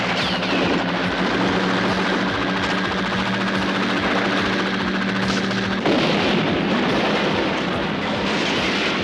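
Military helicopters in a 1985 French-dubbed action war film: loud, continuous rotor thrum with rapid chopping pulses throughout, joined by bursts of gunfire, with a sharp shift in the roar near the end.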